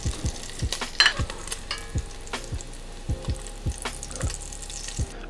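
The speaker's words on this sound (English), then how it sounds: "once the bacon gets nice and crispy, we're gonna remove it" Bacon fries until crispy in a pan, with a steady, hissing sizzle and a regular run of soft thumps and pops from the fat and the stirring.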